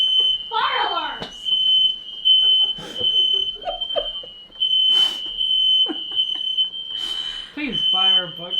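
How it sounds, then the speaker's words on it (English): A smoke alarm shrills continuously at a high, steady pitch in a home kitchen during Thanksgiving cooking, while several people talk and shout over it. "Fire alarms!"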